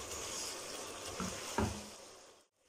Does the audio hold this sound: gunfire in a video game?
no